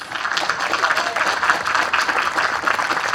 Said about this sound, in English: Today's campaign, Karima deserves a huge round of applause.